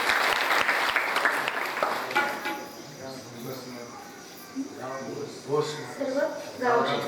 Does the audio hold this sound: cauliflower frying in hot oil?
no